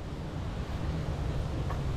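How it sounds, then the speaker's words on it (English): Strong, cold wind blows outdoors in a residential neighborhood, a moderately quiet, steady low rumble and hiss against the microphone with no voices. "Ridiculously windy."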